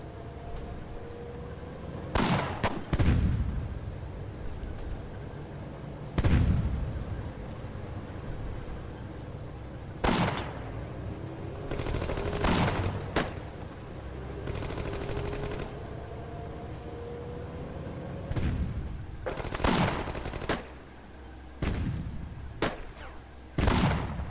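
Machine gun fire and explosions in the World War 2 strategy game War Leaders: Clash of Nations, scattered sharp bursts and booms spaced several seconds apart over a steady background of battle noise.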